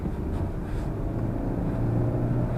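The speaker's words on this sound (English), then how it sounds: "That resonator delete doesn't actually sound half bad." A 2005 Nissan Sentra exhaust with the resonator removed rumbles low and steady close by, a deep, throaty drone that holds without breaks.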